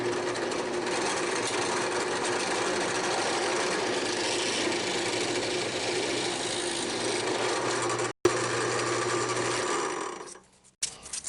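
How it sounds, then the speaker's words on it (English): A drill press fitted with a 3/8 inch Forstner bit bores into wood in a steady, close grinding whir that runs without break, cuts out for an instant, then resumes before winding down. "I've been just using the drill press. And a 3/8 inch Forstner bit."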